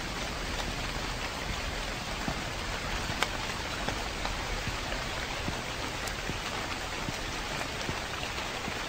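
Rain falls in the horror video game The Convenience Store, a steady, even hiss of drops with faint scattered ticks, unbroken and alone throughout.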